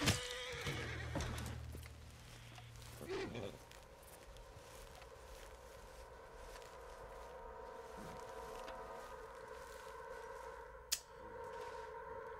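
A horse in Red Dead Redemption 2 lets out a loud whinny at the start, followed by a few hoof clops and quieter game ambience.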